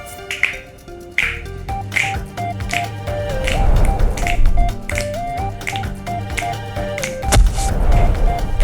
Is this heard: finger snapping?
yes